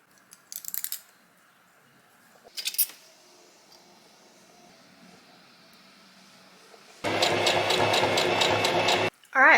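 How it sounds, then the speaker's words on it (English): Sewing machine stitching cut fabric pieces for an 18th-century costume top: faint clinks and handling noises, then a loud steady whirring run of stitching for about two seconds before it stops. "Now I need to stitch them all together."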